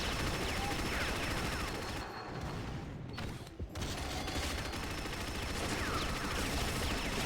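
A dense, continuous fusillade of gunfire in an arena video game match, with a brief dip in the middle before the shooting resumes, loud and steady throughout with no clear talking.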